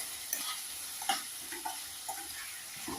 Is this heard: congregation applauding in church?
no